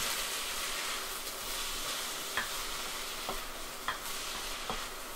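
An onion frying in a pan gives a steady, fairly quiet sizzle, with a few faint clicks of a utensil against the pan and no talking.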